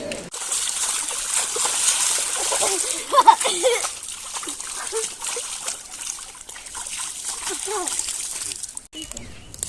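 Someone bathes in a river in Mayotte, with steady splashing and trickling water through the whole stretch, close by and moderately loud under a voice.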